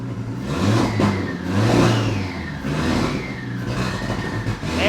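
A VW Golf R fitted with an Audi RS3 engine runs close by, its revs swelling and dropping in several strong pulls over a steady running note, with no talking.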